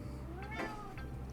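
A house cat meows once, a single drawn-out call, faint and close, over a low steady background hum.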